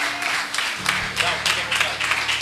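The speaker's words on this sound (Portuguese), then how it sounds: "Aplauda ela." A church congregation claps in a loose, rhythmic pattern of soft bursts, heard at moderate distance with a voice speaking over it.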